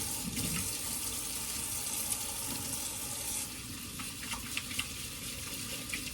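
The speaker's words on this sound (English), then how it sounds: "Let me rinse my hands off here." Water streams from a kitchen tap as hands are rinsed under it, a steady, fairly quiet hiss with small splashing variations and no talk.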